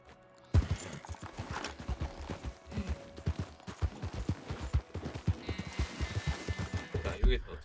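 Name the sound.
horse galloping in video game Red Dead Redemption 2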